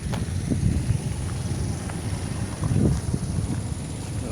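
Strong gusty wind after a super typhoon buffets the microphone outdoors, a low, rough roar that swells and eases in uneven surges, with faint scuffing footsteps underneath and no talk.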